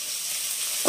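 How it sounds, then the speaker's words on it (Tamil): Onion pieces sauté in hot oil with curry leaves and green chillies for a South Indian vegetable side dish, giving a steady close sizzle and hiss throughout, with a brief louder stir near the end. "வெங்காயம் நல்லா வதங்கட்டும்."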